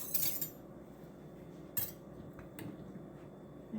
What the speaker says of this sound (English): I'm going to go ahead and get a knife out here